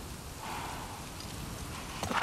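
Steady rainfall in The Last of Us Part II, a soft continuous hiss of falling drops, with a brighter spatter of nearby drops or splashes near the end.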